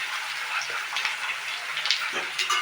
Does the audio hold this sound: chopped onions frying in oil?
yes